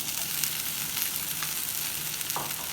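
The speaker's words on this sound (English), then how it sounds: "I'm adding chopped tomatoes" Chopped tomatoes hitting a pan of frying onions give a steady, bright sizzle that holds evenly throughout at close range, with no voices.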